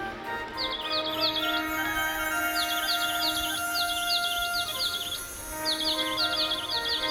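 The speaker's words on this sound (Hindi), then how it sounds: "नन्हे नन्हे पक्षी चहचा रहे हैं कदम की डारी पर।" Small birds chirp from kadamb tree branches in repeated quick, high twittering bursts, fairly near, over a faint steady background hum.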